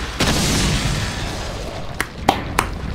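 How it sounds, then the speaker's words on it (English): Flashbang grenade going off in Resident Evil 4: a sustained rumbling roar that fades, followed by three sharp sudden bangs close together near the end, with little talk. "And now we need a flashbang."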